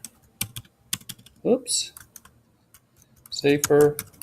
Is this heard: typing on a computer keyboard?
yes